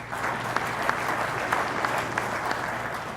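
Conference audience at a water industry panel clapping in a steady, dense wash of applause, fairly close and continuous with scattered sharper claps, no talk over it.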